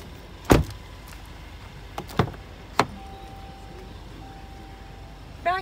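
Door of a 2019 Jeep Cherokee Trailhawk Elite clunking as someone steps out, a few sharp thuds and latch clicks spread over several seconds, fairly close, with a faint steady hum between them and no talking.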